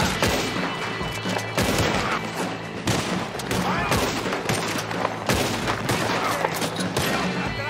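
Dense bursts of gunfire from Red Dead Online: rapid, overlapping shots and booming reports crowd one another without pause, loud and close, with occasional voices mixed in.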